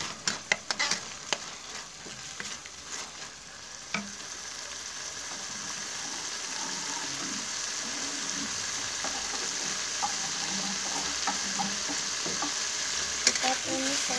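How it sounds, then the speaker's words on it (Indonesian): Spicy squid sambal sautés in a pan with a continuous, close sizzle and frying crackle, punctuated early by scraping stirs of a utensil, with no talking. "Kita tumis sampai harum"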